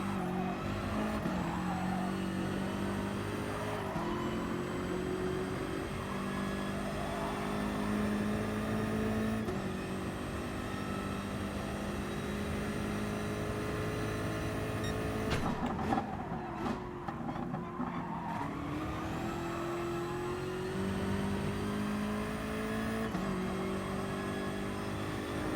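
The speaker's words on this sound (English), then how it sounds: "I love the downshift sound on this car." Aston Martin DBR9 race car engine in Gran Turismo Sport, rising through the gears with sharp revving pitch sweeps, then downshifting with a quick series of blips around the middle, loud and close with almost no talk.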